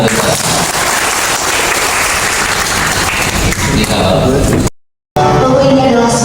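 An audience in Indonesia applauds at the launch of SiFortuna, a national pest forecasting information system, with loud, dense clapping mixed with crowd noise, then a brief silent gap before the sound resumes.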